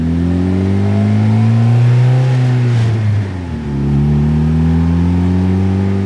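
A DF Goblin kit car's engine revs up with a rising mid-pitched drone, dips briefly as the throttle lifts around a gear change, then climbs again, loud and close throughout.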